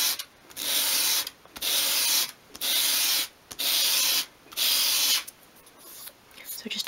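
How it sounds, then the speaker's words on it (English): A small wood piece for a 1/12 scale mirror is swept across sandpaper at a 45-degree angle to bevel it, five even rasping strokes with short pauses, close and clear, a voice speaking in the background. "hold it at a 45-degree angle against your sandpaper and just sweep it towards you"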